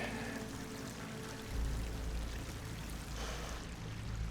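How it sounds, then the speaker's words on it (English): Water pours and rushes into an enclosed space with slick walls in Horizon Forbidden West, a steady broadband wash that swells louder partway through, with a low rumble underneath and no talking. "Water's coming in."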